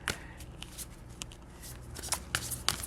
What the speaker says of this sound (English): Just pick up the cards and keep going.